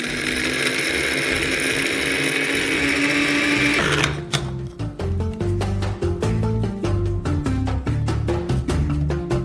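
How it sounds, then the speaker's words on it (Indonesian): A kitchen grinder grinds dried crayfish meat into powder. It runs with a steady high whir, then switches to rapid, rhythmic rattling pulses. The sound is close and loud, and there is no talk. "Jadi kita pindah semua daging ini ke penggiling, dan giling menjadi bubuk."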